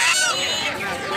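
Chickens cluck and squawk close by amid a busy background of voices at the weekly Sirajdikhan poultry and fish market in Bangladesh, where ducks and pigeons are also sold.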